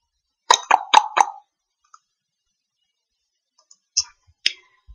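A computer mouse clicks several times in quick succession while working in software, crisp close taps, then a pause and a few more scattered clicks.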